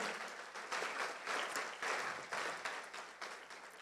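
Church congregation applauding during a sermon, a brief burst of many hands clapping in uneven waves that swell and ebb, heard from a slight distance and fairly soft.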